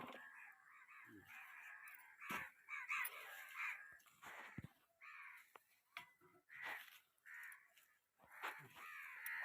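Several crows caw repeatedly at dusk, loud and close, in irregular bursts with short pauses between calls.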